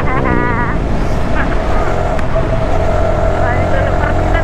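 A 1,000cc motorcycle revs hard on the Marilaque mountain road, its loud, close engine note rising and falling in quick sweeps over a constant roar of wind and road noise.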